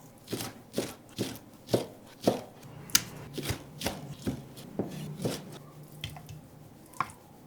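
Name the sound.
chopping cream dory fish into small pieces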